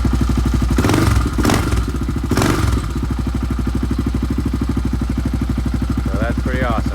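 A rebuilt Yamaha Raptor 660 ATV engine idles loud and close with a rapid, even thumping beat, a few clattery bursts near the start, and brief voice fragments late.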